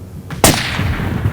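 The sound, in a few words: rifle gunshot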